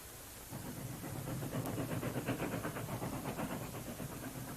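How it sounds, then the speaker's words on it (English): A train recording played back from a record, a muffled, steady chugging rumble with rhythmic hissing pulses that builds after a quiet start and holds at moderate, low-fidelity loudness, no talking. "It's a train."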